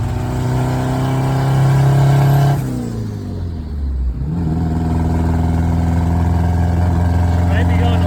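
A boosted 1987 Mazda B2000 drift truck engine revs loudly up close, then drops back and settles into a steady idle.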